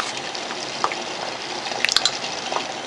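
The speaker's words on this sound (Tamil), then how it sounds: "5 மினிட்ஸ் கொஞ்சம் நல்லா கொதிக்கணும். சிம்மில் வச்சு கொதிக்கணும்." Soft, sparse bubbling and small liquid pops from a pot of sambar gently simmering, quiet and close.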